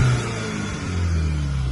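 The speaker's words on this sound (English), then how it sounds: "We'll give the car a little rev now just whilst it's warmed up." A warmed-up Volkswagen Polo 1.8 GTI with a 189 bhp engine and a soft rev limiter is revved, a loud, steady, close engine drone that dips briefly and then rises again.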